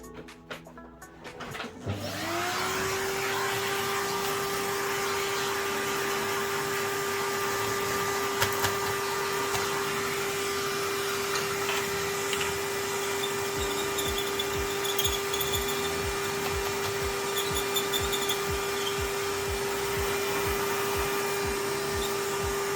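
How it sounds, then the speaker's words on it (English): A vacuum cleaner pulls dust out of a caked Toshiba C850 laptop fan. It starts up after a brief clatter, then holds a loud, steady tonal whine and roar, with faint rattling near the end. "So let's give that a quick vac."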